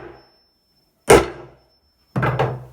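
Knuckle knocks on MDF and radiata pine boards: one sharp solid knock, a pause, then a quick double knock, each with a short dull resonance and close and loud.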